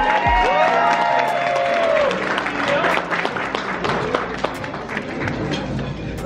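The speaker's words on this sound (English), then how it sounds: "Yes, we cheer them on." Audience applause and cheers ring out for admitted university students called to the front, a dense, loud wash of clapping with voices mixed in that continues steadily throughout.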